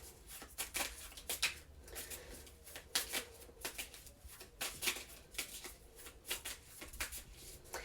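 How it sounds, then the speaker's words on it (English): Personal power oracle cards shuffle in repeated quick riffling bursts, close and fairly quiet, with brief pauses between rounds and no talk. "Let's get Libra some of these personal power oracle cards"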